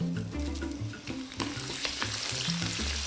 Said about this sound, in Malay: Apabila minyak sudah panas, masukkan 3 sekawan dan beberapa tangkai daun kari ke dalam kuali.